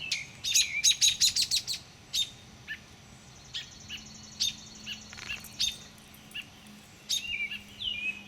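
Small birds chirp and tweet near a nest being raided by a snake, with a quick burst of sharp calls followed by scattered single chirps, outdoors and without talking.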